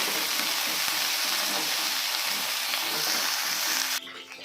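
Curry leaves and coriander fry in a pan over low flame, a loud close continuous sizzle and crackle that cuts off abruptly near the end.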